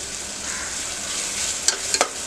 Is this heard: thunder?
no